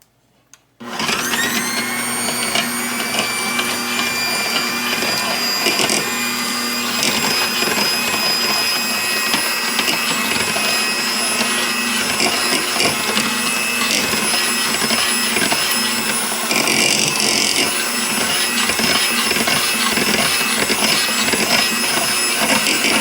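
Electric stand mixer running steadily on low speed, beating softened butter, oil and sugar cookie dough in a bowl; a continuous motor whine starts abruptly and holds loud and even throughout, with no talking.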